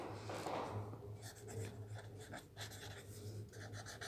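A pen or marker writing on paper or a board during a physics lesson, with soft close scratchy strokes in short uneven bursts over a quiet low hum.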